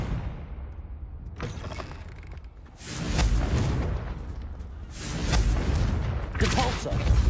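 A fiery Confringo spell blast in Hogwarts Legacy erupts as loud whooshing booms, several broad surging bursts in succession that swell and fade over a few seconds.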